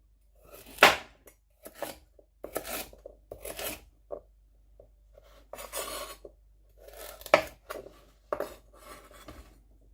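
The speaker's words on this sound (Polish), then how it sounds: "Marchewkę również kroimy w równe, niezbyt małe kawałki." A knife chops carrots into even, fairly large pieces on a board, sounding as sharp close knocks in uneven bursts separated by short quiet gaps.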